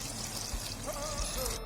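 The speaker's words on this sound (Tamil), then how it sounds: "கொஞ்சம் தண்ணி ஊற்றிக்கலாம்ப்பா," Water poured into a pot of mutton curry (kulambu) with chilli powder, a soft, fairly faint trickling pour lasting under two seconds.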